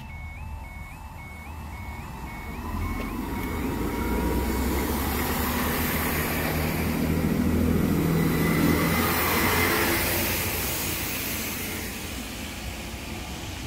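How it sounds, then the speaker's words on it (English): A train rumbles slowly past a level crossing, a low steady drone swelling and fading over several seconds, with the crossing's repeating electronic warning tone in the background. "The train's just crawling, it takes ages."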